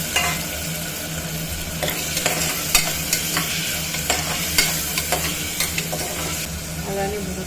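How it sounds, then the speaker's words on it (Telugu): Curry leaves frying in hot oil for a black-eyed pea sambar give a steady crackling sizzle with scattered sharp pops and a few stirring scrapes, close and fairly loud. "ఇప్పుడు కొంచెం కరివేపాకు వేస్తున్నాము అది ఫ్రై అవ్వాలి"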